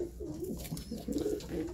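Pigeons in a racing loft give soft, repeated low cooing calls in a steady rolling rhythm, close and fairly clear, with no talk over them.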